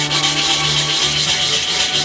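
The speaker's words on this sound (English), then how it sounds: "sand them nicks out. And that's why it's called dry sandpaper." Steady, continuous dry sanding on a cast aluminum motorcycle rim, a loud close rasping scrape with no talking.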